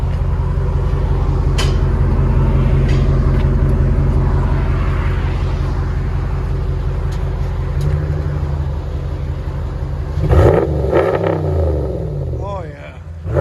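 A RAM 1500 pickup with a 5.7L HEMI V8 and Flowmaster race muffler holds a loud, deep, steady exhaust drone, then rises in a sharp rev near the end, with voices briefly audible.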